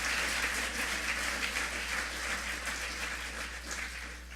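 An audience at a book-event finale applauds to thank local sponsors, a dense and steady sustained clapping that fills the room and tapers only slightly toward the end, with no voices over it.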